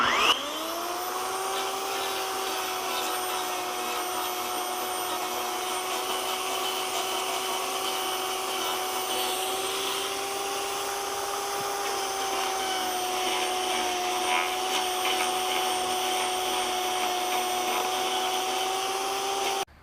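An electric chainsaw power gouge carves into wood, giving a steady, high-pitched motor whine with a harsh buzzing edge that holds nearly constant throughout, dipping slightly mid-way, alone and fairly close.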